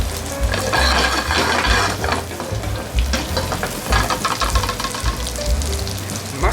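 Butter sizzles in a hot pan with sea bass and sliced garlic, a loud crackling fry with bursts of spattering and occasional stirring, close up and continuous.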